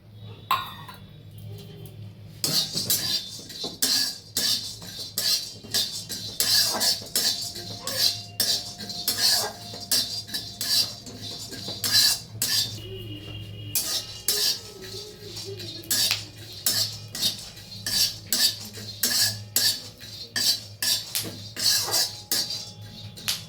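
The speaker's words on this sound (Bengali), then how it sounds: "এবার কুমড়োর বীজটাও ভেজে নিচ্ছে" Repeated metal scraping and clinking of a utensil stirring pumpkin seeds dry-roasting in a pan, close and steady, continuing throughout with no voices.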